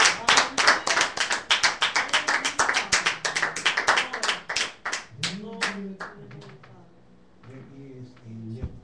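Church congregation clapping their hands in steady rhythm, sharp repeated claps for about five seconds before tapering off, with voices and singing taking over toward the end.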